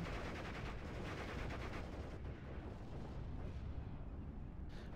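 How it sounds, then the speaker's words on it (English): Heavy 210mm artillery pounding tank positions in Steel Division: Normandy 44, a dense continuous clatter of gunfire and blasts, faint and steady throughout with a brief dip midway. "Calling in some artillery on those tank position"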